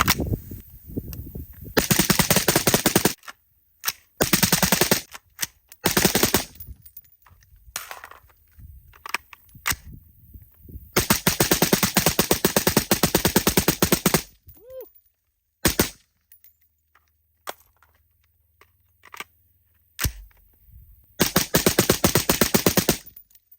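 Rapid rifle fire through a Dead Air Lazarus 6 suppressor on a budget PSA upper, loud close bursts of suppressed shots in several strings separated by short pauses, with a few quiet gaps between magazines.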